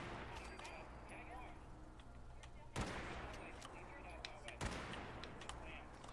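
Weapon fire in the online game Fallout 76, two loud sharp shots a couple of seconds apart over quieter crackling background shooting, with faint talk underneath.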